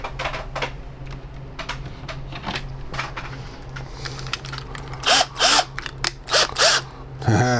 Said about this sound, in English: Actually, I should chuck that thing in the drill.